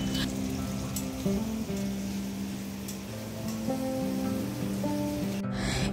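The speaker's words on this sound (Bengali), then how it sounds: "আগে থেকে কুচি করে রাখা পেঁয়াজগুলো দিয়ে দিলাম তেলের উপরে" Chopped onions hit hot white cooking oil for biryani, giving a steady wet sizzling hiss that fills the whole stretch, with faint kitchen clinks on top.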